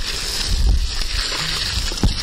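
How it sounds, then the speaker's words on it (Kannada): Water being poured onto a vermicompost bed covered with soil and green leaves, a continuous wet sloshing and splashing with a couple of heavier splats, close by and without talk. "ಈ ತರಕ್ಕೆ ನೀರು ಹುಯ್ಬೇಕು."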